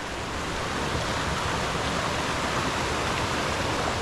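A mountain stream near Toparlar waterfall in Köyceğiz rushes in a loud, constant broadband wash of flowing water, close by with no voices.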